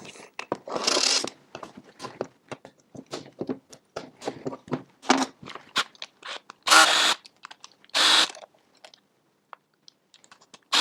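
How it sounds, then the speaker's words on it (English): Screws come out of a Rotax carburetor float bowl, with a few short, close whirring bursts from a small driver among scattered clicks and handling taps. "The first thing we're going to do is remove the bowl screw and then the 3 screws here that hold the bowl to the carburetor."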